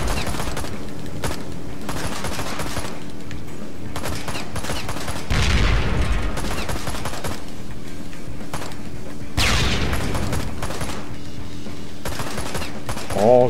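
Rapid gunfire from the video game Ride to Hell: Retribution rattles on steadily and loudly, with two heavier blasts surging over the continuous shooting.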